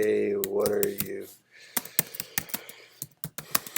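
Computer keyboard typing with quick, irregular key clicks in short bursts, close and crisp, following a brief stretch of a voice at the start.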